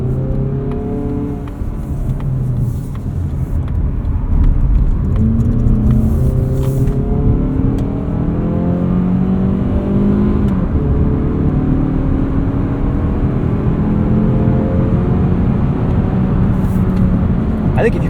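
A 2026 Mazda CX-30 2.5S accelerates hard in sport mode, engine pitch sweeping up through the gears in steady rising pulls heard from inside the cabin, loud and continuous.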